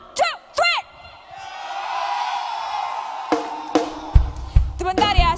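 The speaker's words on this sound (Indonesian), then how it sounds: "When I count 1, 2, 3, I want you to scream out loud." An audience at a corporate awards ceremony screams and cheers on cue after a countdown, a loud sustained crowd roar rising and holding for a few seconds, with shouted voices at the start and end.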